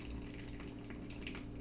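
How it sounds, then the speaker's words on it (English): Water poured generously over freshly potted plants in a loose, airy mix, a steady close splashing and trickling flow running continuously throughout. "I'm just gonna water them really, really well."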